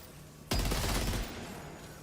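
A minigun, a super heavy machine gun in Death Stranding 2, opens fire with a sudden loud, dense burst of rapid shots. The burst settles into a sustained roar that carries on to the end, with no voices.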